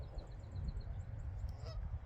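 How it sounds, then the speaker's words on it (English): Geese honking in a series of short, repeated calls at a moderate distance over a low rumbling background, fairly faint. "God, those geese are arrogant."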